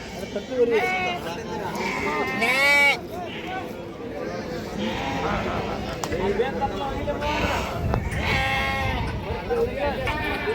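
Several sheep bleat, some loud and close, others farther off, across a busy Saturday sheep and goat market in Hubballi, with constant chatter and crowd noise underneath.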